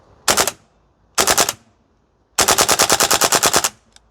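WellPro AK12 gas blowback airsoft rifle firing on full auto at an outdoor range: two short bursts, then one long rapid burst of about a dozen sharp, evenly spaced shots, loud and close with no talk.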